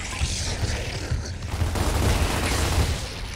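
Dense, loud rapid gunfire from hip-firing weapons in Gears of War Ultimate Edition, a continuous rattling burst with booming low thuds running through the whole stretch.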